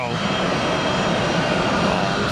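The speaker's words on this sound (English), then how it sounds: "Oh, listen to those engines." Airliner jet engines roar steadily at Tampa airport, a loud continuous broadband rumble and whine with no breaks, heard at close range with some talk mixed in.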